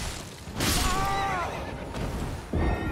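A horse whinnies in the Elden Ring video game during boss combat, a loud rising-and-falling neigh with crashing impacts around it, no talk over it.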